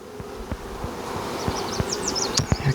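Honeybees buzzing around a nuc being hived, several close insects droning and whining past with rising and falling pitch over light rustling and occasional soft knocks, loud and near.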